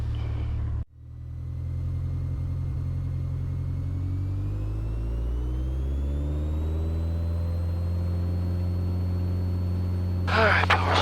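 Small airplane engine running at full takeoff power, a loud steady drone with rising propeller tones that climb in pitch as it gains speed, after a brief cut near the start.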